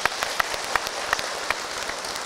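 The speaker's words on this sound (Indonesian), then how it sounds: "tepuk tangan Bu untuk Ustadz Encep ya." A crowd claps steadily in a dense, even patter at an Islamic preaching session, with a few sharper claps standing out, moderately loud throughout.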